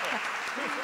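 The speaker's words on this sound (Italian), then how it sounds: "ecco gli applausi dei fan" Fans in a museum audience applaud at an art talk, a steady wash of clapping lasting under a second, with voices mixed in.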